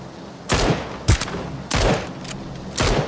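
Four loud, close gunshots ring out in PUBG, spaced about half a second to a second apart, each a sharp crack with a short tail.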